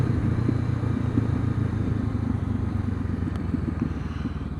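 A Honda CB500X motorcycle engine runs steadily on a quiet Sunday morning ride, a loud, close, continuous throbbing rumble with a slight rhythmic pulse and no talk over it.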